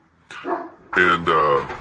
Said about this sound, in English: that's my dog fighting with the other dog.